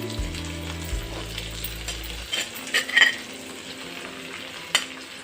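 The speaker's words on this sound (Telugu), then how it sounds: "అలాగే క్యారెట్ ముక్కలు వేస్తున్నాను ఆలుగడ్డ ముక్కలు కూడా వేసేస్తున్నాను" Carrot and potato pieces tossed into a pan with tomato for upma, a soft sizzle under a low steady hum, with clinks and scraping of a spoon stirring and a sharp metal tap near the end.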